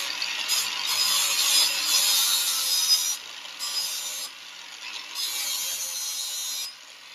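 An axe blade is sharpened on an angle grinder, giving a gritty, high grinding hiss that swells and drops in repeated passes over several seconds, close and alone with no speech.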